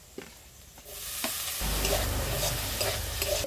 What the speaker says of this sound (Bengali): গাজর আর আলুটা হালকা করে ভেজে নিয়েছি। এবার ক্যাপসিকামটা দিয়ে দেবো।